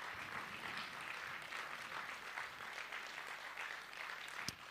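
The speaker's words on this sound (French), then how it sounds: "On peut applaudir aussi très fort les techniciens" A festival audience at a musical book reading claps steadily for the technicians, a broad, sustained wash of applause heard from within the hall, with one sharp louder clap near the end.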